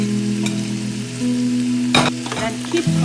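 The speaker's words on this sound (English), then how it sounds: "So after 10 minutes frying," Masala sizzling and frying steadily in a pan for Indian-style momo soup, with a brief louder stir or scrape partway through, heard close and alone without voices.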